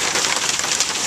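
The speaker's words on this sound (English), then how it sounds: "and here comes the hail." Hail pours down in a dense, loud, steady hiss of hard pellets striking surfaces, continuous and close through the short stretch with no voices.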